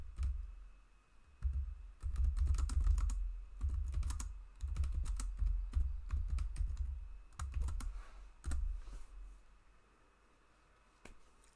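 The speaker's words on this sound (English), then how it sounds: "I will type my welcomes message." Rapid bursts of computer keyboard typing, close and crisp, with clusters of clacking keystrokes separated by short pauses, fading to quiet near the end, with no talking.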